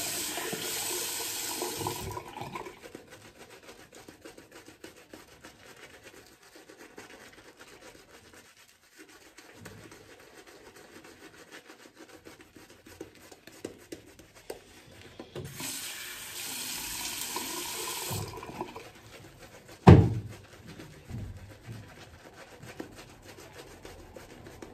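A bathroom tap runs during shaving, a strong rushing stream at the start that gives way to quieter rubbing and small sounds, then gushes again later, with a sharp knock near the end.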